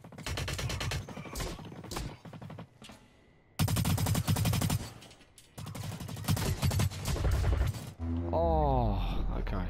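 Bursts of rapid automatic gunfire and single shots crackle in a Blacklight Retribution match, loud and close, broken by short pauses and a voice talking between volleys.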